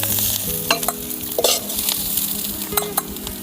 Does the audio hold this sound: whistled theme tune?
no